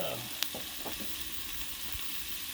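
Chicken wings sizzling on a Blackstone griddle, a steady dense fry with a sharp clink of a utensil early on and faint scraping strokes, no talk.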